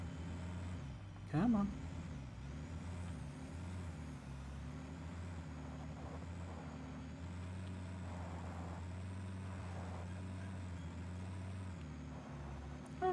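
A truck in the video game Satisfactory rumbles along with a steady low engine drone, faint and even throughout, with a brief bump near the start and a short spoken remark.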